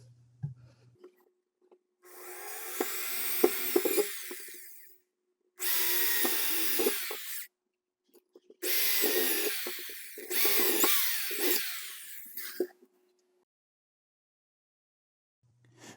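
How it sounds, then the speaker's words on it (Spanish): A power drill boring holes through metal rods for a homemade TV antenna, in four separate bursts of whining, grinding drilling with short silent pauses between them. "vamos a perforar para cruzar las varillas que van a funcionar como reflector de nuestra antena"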